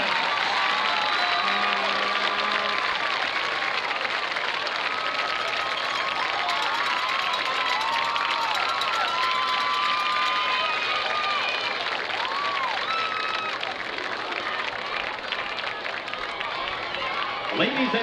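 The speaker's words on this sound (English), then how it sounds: "once again, a round of applause for all the court members and their queen, Miss Bailey Ann Baker." A crowd in the stands at a high school football game between Hammond and St Thomas cheers and applauds loudly and continuously, with claps and shouts blending into a dense roar throughout.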